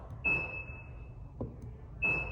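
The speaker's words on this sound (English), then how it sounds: "You can hear the little chime." A car's door-lock chime sounds twice, a clear high electronic tone roughly two seconds apart, with a faint click between them, close and quiet, and no talk.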